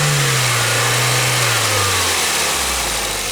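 A car engine revs hard under acceleration, its deep tone drifting lower over a few seconds while wind and road roar fill the cabin loudly throughout.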